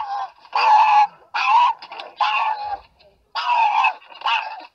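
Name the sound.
dog vocalizing unhappily at a PetSmart store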